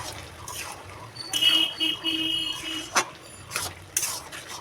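A spoon stirs ginger into a simmering ash gourd and fish head curry in a pot, giving soft scraping and clinking strokes with a sharp metallic knock partway through; no voices.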